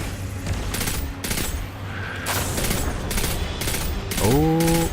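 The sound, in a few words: pulse rifle gunfire in Destiny 2 video game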